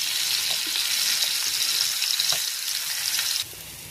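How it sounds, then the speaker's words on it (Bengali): Hilsa fish frying crisp in hot oil in a pan, giving a steady, bright sizzle and crackle with small spattering pops throughout, close and fairly loud, no talking. "এই যে মাছ ভাজা ভাজা হয়ে গেছে, ইলিশ মাছ আমরা একটু কড়া ভাজি"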